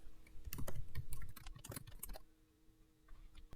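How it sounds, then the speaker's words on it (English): Names typed into a computer keyboard: a dense run of close, clicky keystrokes that tapers to a quiet pause and ends with a few scattered taps, no one talking. "this is where you type in all of the names"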